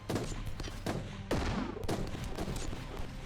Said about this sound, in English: I think he's using an Exodus rifle